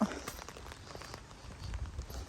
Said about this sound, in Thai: ฝนตกหลาย ตกพอแปกพอกแปก